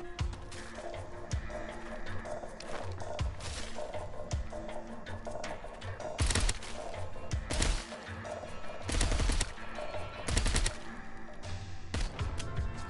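Repeated bursts of gunfire from RoboCop's gun in the VR co-op game Arizona Sunshine, loud broadband blasts in clusters amid a dense, busy game soundscape, with no talk over it.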